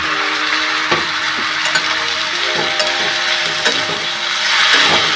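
Tomatoes and green chillies frying with onions in a home pan for malai kofta give a loud, constant close sizzle, with scattered scraping stirs and small knocks of a spoon throughout.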